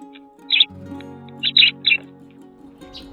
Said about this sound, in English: a group of sparrows gathered around the feeder, basking in the soft sunlight